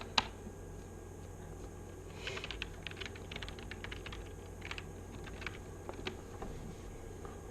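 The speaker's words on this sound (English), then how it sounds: "I have to type it over, and that's annoying." Typing on a computer keyboard while programming in Java, a steady run of light key clicks at close range with one sharper tap near the start and no talking.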